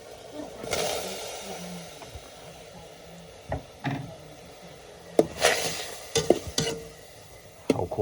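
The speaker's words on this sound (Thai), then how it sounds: "เอาคั่วซีนเพื่อให้มัน" Meat being stir-fried in a pan at a home meal, with steady sizzling and irregular scraping and clacking of a utensil against the pan, fairly close, while a person talks.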